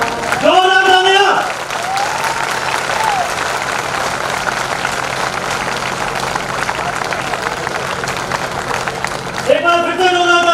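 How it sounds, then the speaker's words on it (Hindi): Sustained audience applause fills a Dr. Ambedkar Jayanti celebration hall for several seconds, a dense steady wash of clapping between brief bursts of an amplified voice at the start and end. "एक बार फिर से जोरदार तालियां।"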